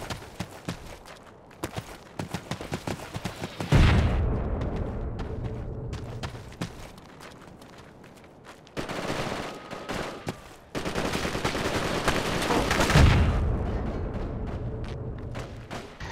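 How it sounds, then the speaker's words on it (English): Mortar fire and scattered gunshots crackle through a video game battle in Gaza, with dense bursts of impacts and a couple of heavier booming thuds, loud and continuous with short lulls in between. "That's just mortars."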